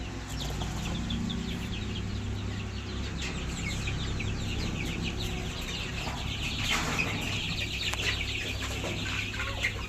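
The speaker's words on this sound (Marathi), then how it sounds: "हे 2 दिवसाचे पिल्ले आहेत आपले।" A flock of chickens on a desi poultry farm clucking and chirping steadily, with some higher peeps that could be young chicks, all under a constant low background hum.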